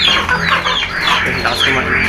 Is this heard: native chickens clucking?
yes